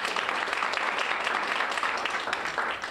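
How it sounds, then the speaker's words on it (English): A community theater audience claps for a cast member at a Halloween show, sustained, fairly full applause with individual hand claps standing out in the mix. "if you just wanna give them a round of applause when I say their name"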